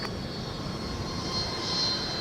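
A jet airliner taxies past at MSP airport in winter, heard from the viewing area as a steady, moderately loud engine whine and rumble that swells slightly toward the end.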